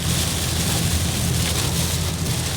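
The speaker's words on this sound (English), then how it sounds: "Got heavy rain." Heavy rain drums steadily on a car while driving through a storm in south central Michigan, a dense continuous roar with low engine rumble underneath, close and loud throughout.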